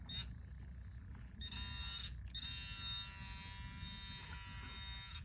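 A metal detecting pinpointer, switched on and waved over the search coil at an old stagecoach stop, gives a thin electronic buzz. The whine starts and stops in short bursts over a low outdoor rumble, with faint voices nearby.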